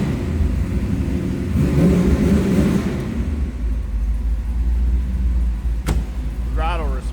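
A 1932 Ford Roadster Highboy engine running, a steady low rumble close by with a faint rise in revs early on, plus a brief click and a squeaky mechanical whine near the end.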